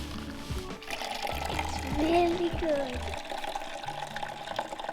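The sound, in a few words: apple juice pouring out of a hydraulic apple press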